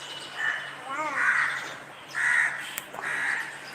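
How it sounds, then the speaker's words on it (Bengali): A crow caws outdoors among trees, giving four harsh calls spaced about a second apart at moderate distance, with faint background ambience and a brief click near the end. "কাক তো কাকা করেই যাচ্ছে"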